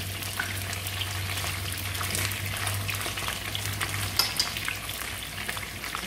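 Fish head frying in a pan, an even close sizzle and crackle throughout with a low steady hum beneath and occasional faint pops, no talking.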